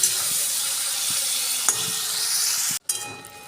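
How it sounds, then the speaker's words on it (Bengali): Prawns frying in hot oil in a kadai, a steady close sizzle with faint stirring clicks that cuts off abruptly near the end, followed by a quieter tail. "চিংড়িগুলো ভালো করে ভেজে তুলে নেব"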